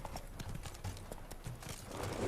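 Hooves of Roach, the horse in The Witcher 3 game, pound in a quick, steady galloping clip-clop under a busy game soundscape, with a faint bit of background noise.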